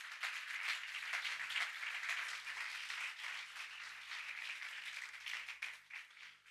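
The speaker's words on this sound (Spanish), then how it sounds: "¿Cuánto le dan un aplauso a Jesús por eso?" A church congregation applauds during a Spanish-language sermon, steady crowd clapping filling the room at moderate volume for several seconds with no break.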